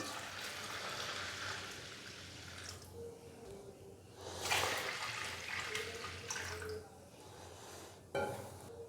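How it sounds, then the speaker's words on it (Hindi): Two litres of water being poured into washed lentils in an open pot while preparing mutton haleem, a soft splashing trickle that swells midway and ends with a brief louder splash, no talking. "2 लीटर हम इसके अंदर पानी डाल देंगे।"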